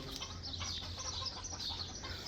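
Chickens and ducks on a hot poultry farm give faint, scattered clucks and chirps over a steady background hum.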